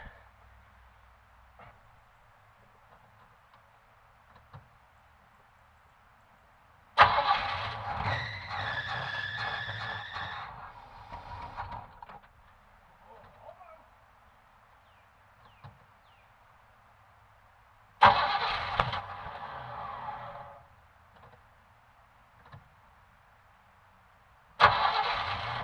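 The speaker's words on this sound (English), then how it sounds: "That is the sound of a clapped out 318 or 360" Worn-out 318 or 360 engine in a 1983 Chevrolet C10 pickup cranking and briefly catching, three loud rough bursts of several seconds each separated by quiet pauses.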